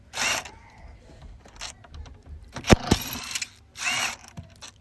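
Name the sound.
removing bolts holding a VW Golf bonnet latch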